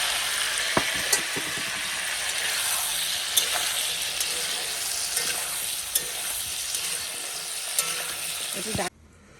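Potato and papaya pieces fry in oil with a pinch of salt, giving a continuous close sizzle dotted with regular spatula knocks and scrapes until it cuts off abruptly.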